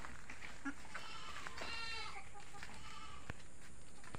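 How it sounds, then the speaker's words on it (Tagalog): Goats bleating on a farm, several wavering cries at moderate distance amid rustling and faint outdoor noise, with a person's voice audible nearby. "Yung mga kambing pa namin."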